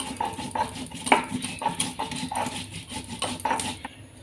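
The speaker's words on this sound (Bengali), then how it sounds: "এখন আমি আস্ত জিরে মরিচ বেটে নেব।" Whole cumin and chili being ground on a grinding stone, with rhythmic scraping and knocking strokes repeating steadily at close range, no voices.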